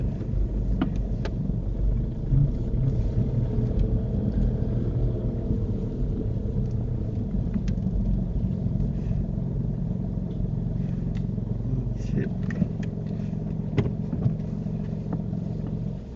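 Car engine running steadily during a driving lesson, a constant low rumble from inside the cabin with faint ticks and clicks, and no talking.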